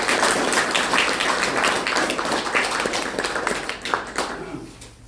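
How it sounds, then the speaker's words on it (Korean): An audience claps at a campaign office opening for an independent candidate in Yongsan, a brisk burst of hand claps that gradually thins and fades over a few seconds. "박수 부탁드립니다"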